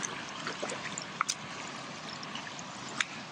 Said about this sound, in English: this river just goes for miles, and it's a wild and scenic river